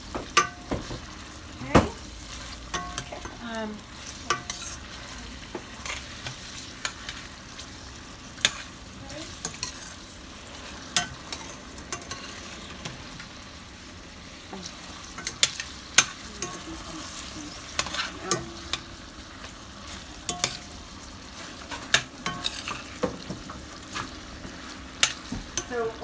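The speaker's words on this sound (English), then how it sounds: "Keep stirring it up." Food is stirred in a pan on a stove, a continuous sizzle broken by frequent scraping and tapping of a utensil against the pan, with a brief spoken word partway through.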